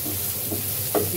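Oil going into a pan for a dried taki fish bhuna, a continuous close hiss of frying with a small bump of sizzle near the end.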